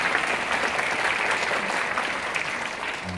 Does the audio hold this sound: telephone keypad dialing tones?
no